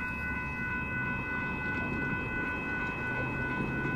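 A northbound Union Pacific mixed freight train rolls past at Dittmar Road in Austin, Texas, a steady loud rumble of cars with a high sustained tonal ring above it, continuous for the whole stretch.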